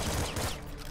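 Shotgun blasts in the video game Nuclear Throne, a dense, loud cluster of overlapping bursts packed into one second, like a rapid volley of gunfire.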